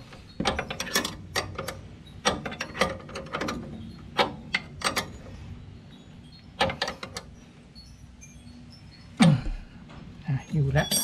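Ratchet wrench tightening the top bolt of a car's front shock absorber, a series of sharp metallic clicks in bursts with pauses between, close and fairly loud.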